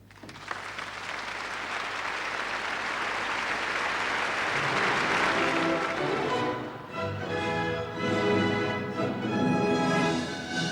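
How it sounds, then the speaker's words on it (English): A large audience at a concert hall applauds wildly, a dense, loud, sustained roar of clapping that eases off after several seconds as an orchestra starts a sustained tone over the fading claps. "Pretend along with me that I am this distinguished man and applaud like mad."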